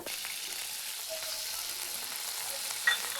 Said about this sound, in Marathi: मी फोडणीसाठी लसूण घालते आणि कढीपत्त्याची पानं